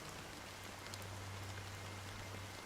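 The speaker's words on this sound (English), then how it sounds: "Amidst the drizzle of black rain, countless shadowy hands emerged from the sea" Drizzling black rain in Honkai Star Rail, a soft, steady hiss of fine rainfall at low volume with a faint low hum beneath it, no voices.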